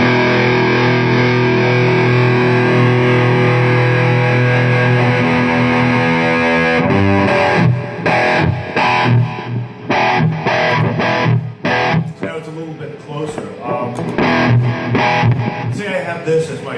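Electric guitar played through an amplifier with effects settings at a NAMM trade show press event: heavily distorted sustained chords, then choppy staccato riffing with short gaps between bursts.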